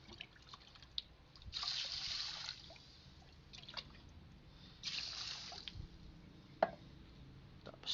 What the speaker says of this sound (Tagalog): Lagyan natin ng 3 cup na tubig.